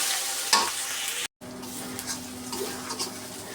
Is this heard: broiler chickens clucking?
no